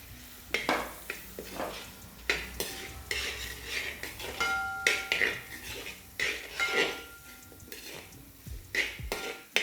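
Chopped onions stirred in a pan while cooking Onam koottucurry, irregular scraping and clinking of a metal spoon against the pan with a soft sizzle underneath, fairly close.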